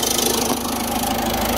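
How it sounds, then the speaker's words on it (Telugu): The engine of a 2014 Ford EcoSport idles smoothly at close range. It gives a steady, even low rumble with a faint rhythmic pulse and no voices over it. "ఇంజన్ యొక్క నాయిస్ వినొచ్చు మీరు, చాలా స్మూత్గా అయితే ఉంది."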